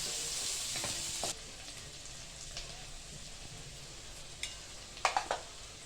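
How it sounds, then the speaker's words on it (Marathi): Onions sauté in a pan with a soft, quiet sizzle. A louder burst of frying cuts off early, and a few clinks of stirring against the pan follow near the end. "कांदा चांगला लालसर होईपर्यंत आपण परतवून घेणार आहे."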